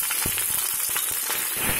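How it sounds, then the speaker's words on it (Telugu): Musa fish pieces, rubbed with turmeric and salt, fry in oil with a steady close hiss broken by quick crackling pops. "ఈ చేపల్ని కొంచెం ఆయిల్ వేసి వేయి"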